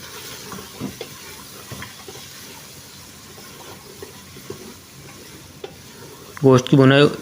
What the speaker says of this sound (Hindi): 2 से 3 मिनट तक इसको भुनाई करेंगे आलूओं को गोश्त के साथ